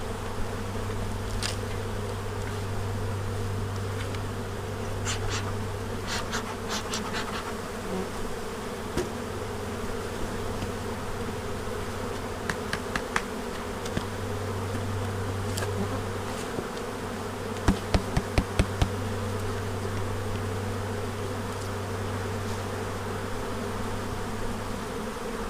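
Dense, steady buzzing of honeybees swarming around an opened hive during a spring brood inspection and hive split, a continuous close drone with a few sharper clicks and knocks from handling the boxes.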